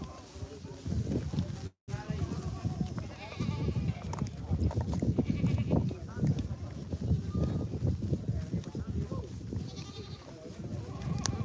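Goats bleating at a busy livestock market on Sanna Road, with repeated calls mixed into crowd noise and people talking nearby throughout.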